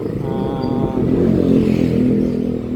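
A motorcycle engine runs close by, idling with a steady, throbbing tone, then rising in a mild rev and holding a higher, rougher drone, with some clattering mechanical noise mixed in.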